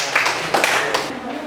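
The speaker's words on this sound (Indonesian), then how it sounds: "tepuk tangan untuk jawabannya" Scattered clapping from a classroom of students after an answer in a religious education lesson, a few brief hand claps over background noise.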